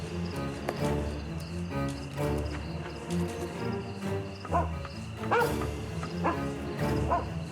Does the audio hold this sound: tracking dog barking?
yes